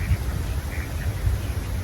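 Ducks quack while being fed birdseed, several harsh calls scattered through a busy low rumble of wind or handling noise, fairly close.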